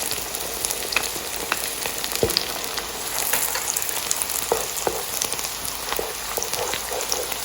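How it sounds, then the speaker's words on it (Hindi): Ginger and garlic sizzle and spit in hot oil in a pan for white chicken karahi, a dense continuous crackle with scattered sharper pops, close and steady, no talking. "अब इसमें मैं अदरक लहसुन डाल रही हूँ।"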